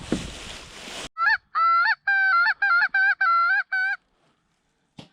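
Geese honk during a goose hunt, a quick train of about seven loud, close, nasal honks in an even rhythm after a burst of rushing noise, then a faint final note.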